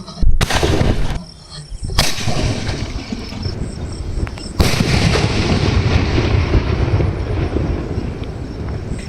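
Village sky shot firework shells burst in three loud, sharp bangs spaced a couple of seconds apart, each trailing into a long crackling, rumbling tail, with no voices.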